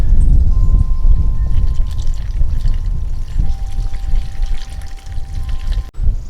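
Water pours steadily into large plant totes while transplanting seedlings, a close, continuous splashing trickle that runs for several seconds before briefly cutting off near the end.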